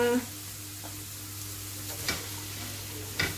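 Garlic and onion sizzle steadily in a hot pan during spaghetti meatball prep, a constant close frying hiss with a low hum beneath and a couple of brief utensil clinks.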